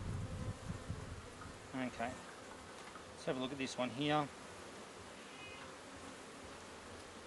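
Bees buzz steadily around an opened top bar hive, a dense insect hum filling the background while someone speaks briefly nearby.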